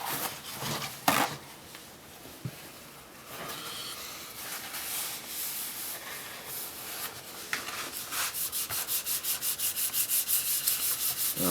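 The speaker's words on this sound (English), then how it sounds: "I'm starting off with 600 grit paper." 600-grit sandpaper wet-sands a guitar's painted finish, irregular strokes at first, then a quick steady rhythm of scrubbing, close and fairly quiet.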